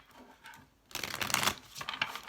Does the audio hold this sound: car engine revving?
no